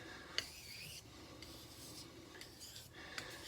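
Kitchen knife drawn across a single sharpening stone, soft repeated rasping strokes with a few sharper scrapes, close and quiet with no talking.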